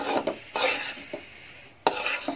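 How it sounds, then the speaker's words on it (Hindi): A spoon stirring semolina as it roasts slowly over low heat in a pan, heard as a handful of scraping, clattering strokes at an uneven rhythm, close and fairly clear. "आधे घंटे तक आपने बराबर जो है चमचा चलाते जाएंगे"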